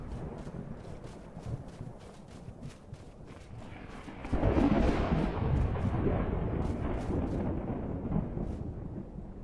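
Low rolling thunder in Skyrim with a weather mod, a long distant rumble that swells midway and fades, under steady rain-like hiss and faint scattered ticks.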